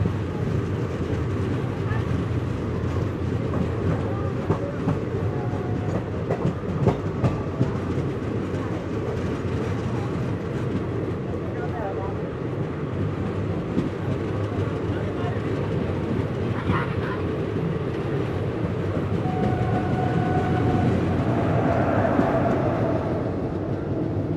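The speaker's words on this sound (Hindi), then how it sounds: "ट्रेन हमारी पहुंच गई है मध्य प्रदेश के सागर स्टेशन।" Passenger train pulling into Sagar station in Madhya Pradesh, with rolling rumble and scattered wheel clatter, a horn-like tone late on, and voices around the platform.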